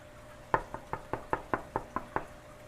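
Nine firm, evenly spaced knocks, close and fairly loud, sound in a fish room lined with aquariums over a quiet room hum.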